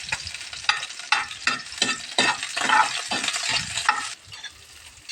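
Garlic sautés in a hot pan for a pork liver dish, with a loud, close sizzle and rhythmic spatula scrapes and stirring strokes that ease off near the end, and no talking.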